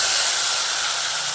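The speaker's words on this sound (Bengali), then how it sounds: "এবার ওই তেলের মধ্যে আমি দিয়ে দিচ্ছি আদা রসুন আর শুকনো লঙ্কার পেস্ট।" Ginger, garlic and dried chili paste hitting hot oil gives a steady, loud, close hiss that holds evenly for a little over a second with no voices.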